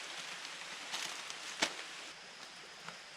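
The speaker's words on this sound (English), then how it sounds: "It's just kind of off and on spitting now." Light, off-and-on rain patters softly around a hammock campsite in the Virginia backcountry, a faint, even hiss broken by a few louder drops and rustles.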